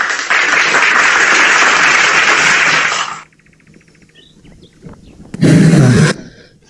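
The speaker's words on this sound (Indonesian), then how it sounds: "Tepuk tangan." Dense applause from a church audience fills the first three seconds, then cuts off to near silence before a second short, loud burst of clapping near the end.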